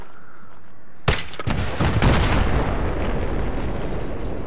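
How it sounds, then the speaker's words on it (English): A noob tube grenade launcher round in Battlefield 3 hits a large container, setting off a sudden loud blast whose roaring rumble and debris keep going for several seconds. "You know that explosion was half me, I shot a noob tube at the massive container."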